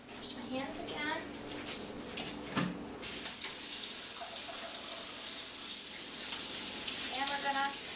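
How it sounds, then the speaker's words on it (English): Hands are washed under a running kitchen tap, a steady rushing splash of water that swells louder partway through, with a person talking over it and faint clinks around. "Wash my hands again."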